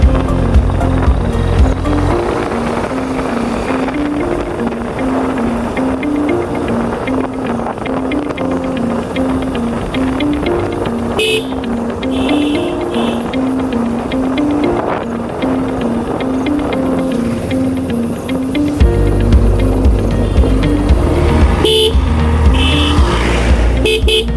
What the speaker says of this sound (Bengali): সবসময় গাড়ির হর্ন দিয়ে বাইক চালাতে হয়